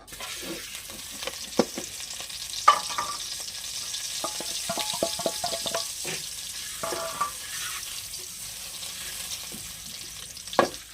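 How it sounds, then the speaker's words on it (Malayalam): Two eggs fry in coconut oil with a lively crackling sizzle, as spatula scrapes and taps come and go in uneven bursts over roughly eleven seconds, close up and with no speech. "കുറച്ച് വെളിച്ചെണ്ണ ഒഴിച്ച് ഈ രണ്ട് മുട്ടയും കൂടെ നമുക്കൊന്ന് ഫ്രൈ ചെയ്തെടുക്കാം"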